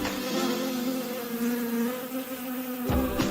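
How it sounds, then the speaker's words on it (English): Bees buzz steadily at a beehive, a continuous droning hum that holds at an even level for a few seconds with no voices present. "Bees live in a hive."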